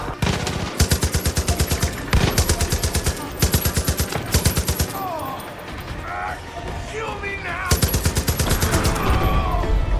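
Automatic gunfire in the video game Far Cry 5, several loud rapid bursts of shots separated by short gaps, with a voice talking during the quieter stretch between them.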